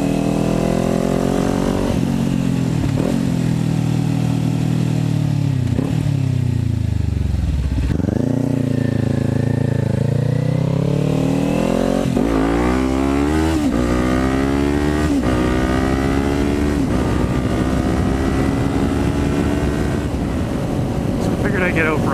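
A Kawasaki Ninja 400 with an aftermarket exhaust rumbles steadily, revving up and down through different speeds and loads, with pitch rising and falling; it stays close and loud throughout.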